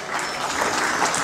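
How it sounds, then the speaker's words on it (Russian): Audience applause at an awards ceremony for activists of local branches, a steady dense wash of clapping throughout the short stretch. "Ваши аплодисменты,"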